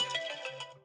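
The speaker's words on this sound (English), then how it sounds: "that was my phone alarm that I have to check on my laundry" A phone alarm rings with a bright, repeating electronic melody, heard clearly and alone in one short burst.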